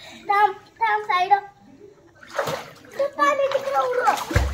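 Children splash in the sea at a beach, with bursts of water spraying and sloshing among excited kids' chatter and shouts that run through most of the scene, the splashes clustering toward the end.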